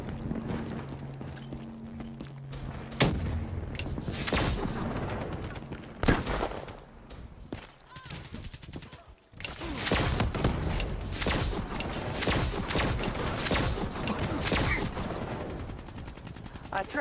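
Rapid gunfire from a wonder weapon in the Black Ops 3 beta, loud, dense bursts of repeated shots with brief pauses, close and continuous across the scene.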